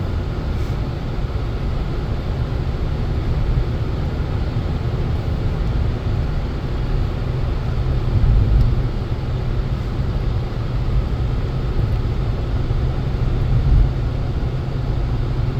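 A 2015 Chrysler 200 car driving and accelerating, heard from inside as a steady low engine and road drone with slight swells in power, constant throughout with no talk.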